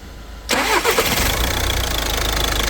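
A car engine cranks and catches at about half a second, then settles into a steady idle, the car being checked for a charge-pressure (boost) regulation fault.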